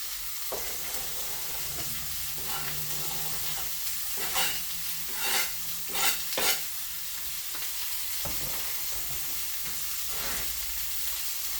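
Curry is stirred into a hamburger steak mixture frying in a pan, with a constant sizzle under scraping spoon strokes and a few clinks and knocks, close by.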